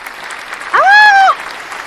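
Steady applause fills the background for the whole stretch, while a single drawn-out vocal exclamation rises and falls over it in the middle.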